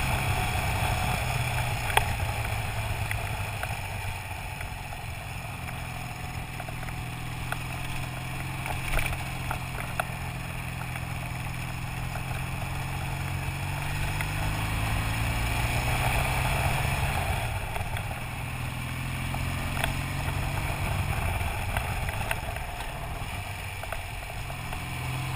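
A motorcycle rides a road in southern France, its engine droning steadily for a long stretch with shifting pitch and constant wind rush, no voices.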